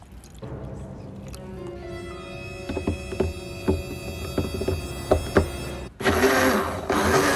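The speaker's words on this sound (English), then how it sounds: "I'm gonna blend up a smoothie in the middle of the library." A blender whirs through a frozen strawberry smoothie in a quiet library, a steady grinding drone with scattered clinks and knocks, rising to a louder, rougher roar near the end.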